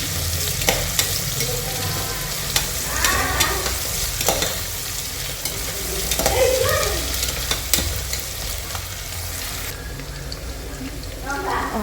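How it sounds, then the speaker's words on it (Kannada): Onions frying until golden brown in a pan for chicken dum biryani, a constant close sizzle with spoon stirring and occasional scrapes, water running briefly in the background, and a voice talking over it at times. "ಸ್ವಲ್ಪ ಇದು ಗೋಲ್ಡನ್ ಬ್ರೌನ್ ಬರೋ ತನಕ ಫ್ರೈ ಮಾಡ್ಕೋಬೇಕು."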